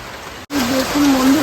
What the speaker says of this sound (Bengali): সকাল সকাল বৃষ্টি শুরু হয়ে গেছে